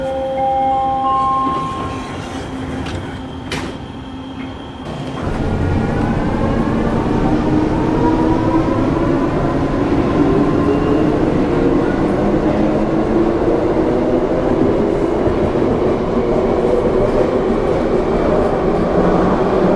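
A Bombardier Mark 1 SkyTrain on Vancouver's Expo Line, a 1995 ITCS train, hums steadily at first, then its motors whine and rise in pitch as it pulls away and rolls on loud and close, with rail noise underneath.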